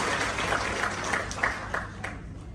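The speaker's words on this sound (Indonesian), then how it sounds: "Tepuk tangan untuk Atomi." Applause from an audience at an Atomy company presentation in Jakarta, a short burst of scattered clapping that rises briefly and then tapers off, with a faint voice underneath.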